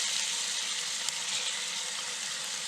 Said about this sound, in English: we're just going to saute it until it's starting to go soft